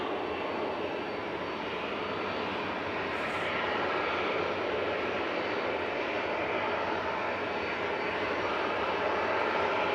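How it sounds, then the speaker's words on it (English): Cessna Citation business jet taking off from Manchester Airport bound for Amsterdam, a loud, steady broadband engine roar holding strong and close throughout with no voices. "It's a Cessna citation and it's going to Amsterdam"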